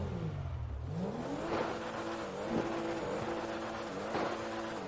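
A Honda Civic engine in the video game GTA 5 revs up and down in a steady, continuous drone with rising and falling pitch, loud and close, no talking.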